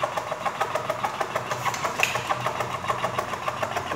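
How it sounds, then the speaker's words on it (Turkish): A tobacco rolling machine runs nearby at its normal speed, producing a steady mechanical chatter with rhythmic clicks at a quick, even pace, and no voices over it. "Makine normal hızında beklediğiniz zaman normal hızında yükleniyor."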